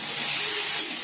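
Bitter gourd and potato pieces fry in a pan with a steady, loud sizzling hiss and a small clink partway through, with no talking.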